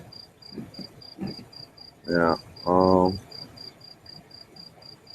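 Cricket chirping heard over a computer connection, a steady, regular run of short high chirps throughout, faint and thin, with people talking over it.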